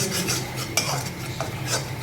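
Turmeric, cumin and coriander powder being stirred and sautéed in hot oil for a river rui fish curry, with repeated close scraping strokes of a spatula over a steady sizzle and no talking.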